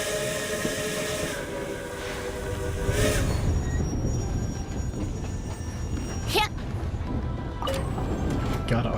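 A Genshin Impact train rumbles along its rails with steady hissing, whistle-like tones and a few sharp metallic clanks, mixed with people speaking.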